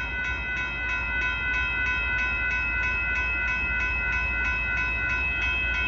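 A northbound Union Pacific tanker freight train with a KCSM rear DPU rolls past a road crossing in Austin, a steady loud rumble with layered whistle-like tonal ringing held throughout, no voices.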